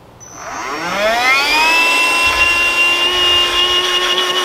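Cordless RIDGID or DeWalt hybrid tire inflator spinning up with a rising whine, then blowing air in a loud, steady high-pitched whirr held close by.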